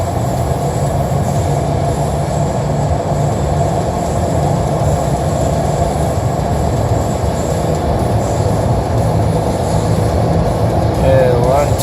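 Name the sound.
2017 Toyota Tacoma engine at half throttle, AFE dry filter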